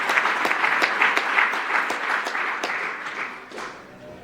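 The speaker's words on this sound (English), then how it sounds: "So let's give a round of applause for Firefighter Mackman, even though he's not here today." Audience at a fire department awards ceremony claps in a loose, moderately loud round of applause with distinct individual claps, gradually thinning out and fading over a few seconds.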